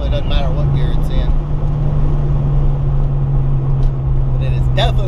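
A car is driven on cold pavement with cold tires, spinning and sliding across the road; its engine drones steadily up close beneath ongoing talk from the driver.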